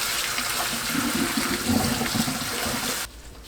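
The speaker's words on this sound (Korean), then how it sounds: "흐르는 물로 헹굽니다." Cut potato strips are rinsed under running tap water, a close steady splashing and gurgling that carries on for about three seconds before stopping abruptly, with no speech.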